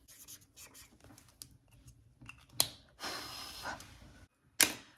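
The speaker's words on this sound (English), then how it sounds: "I'll write it in my mild liner" Mildliner highlighter pen writing in a Traveler's Notebook, giving soft scratchy strokes in short bursts with a few sharper taps and pauses, close and quiet, with no talking.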